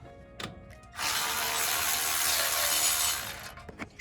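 Socket wrench with a 3/8 extension working a bolt during a 1996–2002 4Runner brake swap, a steady rapid ratcheting whir for about two and a half seconds, close and loud, framed by brief clicks.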